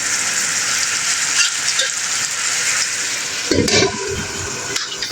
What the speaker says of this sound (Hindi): आज ये चिकन हमारा दूसरी तरफ पक रहा है, जब तक ये ड्राई नहीं हो जाता, गल नहीं जाता, हम इसे पकने देंगे।